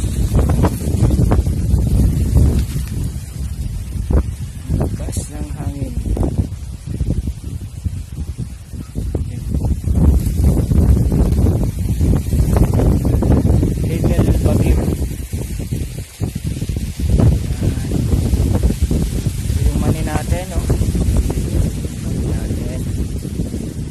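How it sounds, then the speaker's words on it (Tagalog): Strong wind on a mountain farm buffets the microphone in a constant loud roar and rumble, gusting throughout, with faint talk mixed underneath. "grabe ang hangin dito"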